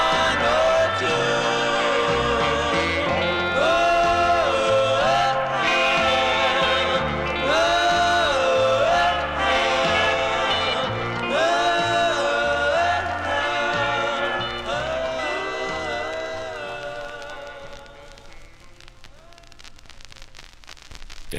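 A 1959 doo-wop 45 by the Larktones plays with layered vocal harmonies over a steady backing, then trails off and fades near the end.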